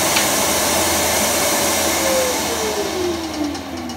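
A benchtop craft bandsaw running steadily, a loud continuous motor whine and hum with a faint tone gliding downward as it winds down slightly near the end.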